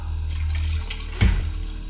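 Water runs steadily from a tap as a close, constant rushing stream, with a brief heavier splash partway through and no voices.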